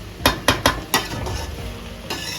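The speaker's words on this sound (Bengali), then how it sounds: "শুধু চিকেনটা ফ্রাই করতে যায় একটু সময় লাগে।" Chicken frying in a pan for chilli chicken, with several sharp clanks of a spatula stirring against the pan over a soft, steady sizzle.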